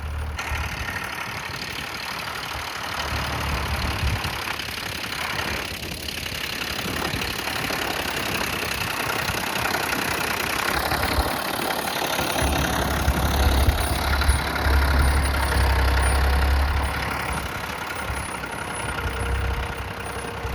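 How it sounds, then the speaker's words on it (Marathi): A tractor engine idles and rumbles steadily at a moderate distance during field sowing, low and continuous throughout, with no voices. "आजूबाजूला पण सगळीकडे ट्रॅक्टर चालू आहे"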